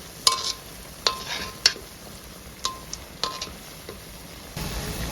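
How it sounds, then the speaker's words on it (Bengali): Sweet ripe mango fritters frying in oil sizzle steadily while a utensil stirs them, giving several sharp close clinks and scrapes against the pan. "এভাবে মাঝখানে নাড়ালে খুব সুন্দর করে সব পিঠার গায়ে তেল ছড়াবে।"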